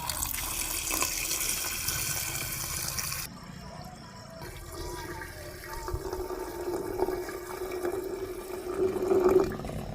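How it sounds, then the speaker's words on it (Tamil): Water runs steadily into a glass bottle, a continuous rushing pour that shifts in tone partway through and rises slightly near the end. "2 லிட்டர் தண்ணி சேர்த்த போகிறேன்."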